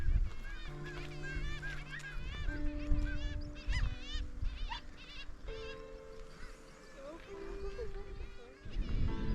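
Seabirds at the Bempton Cliffs colony, where gannets perch along the cliff edge, keep up a dense, overlapping racket of harsh honking calls in the open air, with wind and some talking mixed in throughout.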